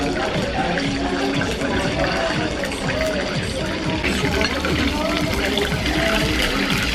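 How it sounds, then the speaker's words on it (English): Tap water runs and splashes into a drinking glass at a restaurant table in Almaty in winter, a steady close pouring sound with busy room noise behind it. "Then he pours it in my glass and it's a water."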